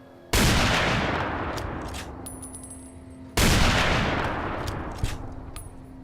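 Two heavy anti-material rifle shots boom in Fallout New Vegas, each about three seconds apart and each trailing off in a long, rumbling echo, with faint game sounds in between.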